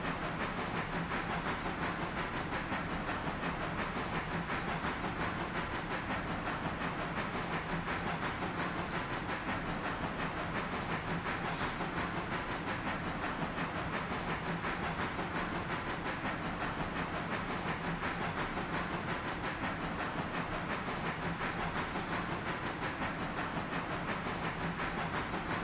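Train running in the railroad simulation game Railroader, a steady continuous rumble with hiss and faint clicking rail noise, unbroken for the whole stretch with no talk.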